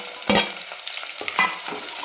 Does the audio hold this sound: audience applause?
no